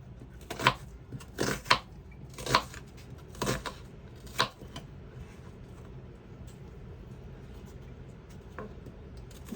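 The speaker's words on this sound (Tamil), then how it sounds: "நான் இப்போ வெங்காயம் வெட்டி கொள்கிறேன்" Onions chopped with a knife, probably white onions, with about half a dozen crisp, close knocks of the blade on a board in an uneven rhythm, then quiet.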